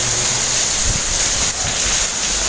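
Heavy rain falls steadily in a dense, even hiss, loud and close, with low rumbling underneath and no voices.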